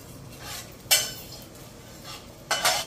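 Bay leaf, nigella seeds and two dried red chillies drop into hot oil for a tempering, giving two short, sharp bursts of crackling sizzle over a quiet kitchen background.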